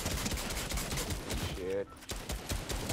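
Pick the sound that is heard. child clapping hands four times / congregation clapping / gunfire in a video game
gunfire in a video game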